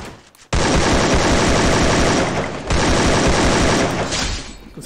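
AK rifle fire in a shooting video game: two long, loud bursts of rapid automatic shots close by, separated by a short gap, with no talking.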